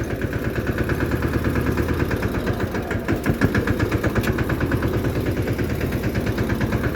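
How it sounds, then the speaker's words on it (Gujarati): A tractor engine chugging along a rough, bumpy farm track, its rapid mid-pitched pulsing throb steady and close, with jolts and rattles from the uneven ground and no talking. "જોઈ લો ટ્રેક્ટર માંદણા મારતું જાય."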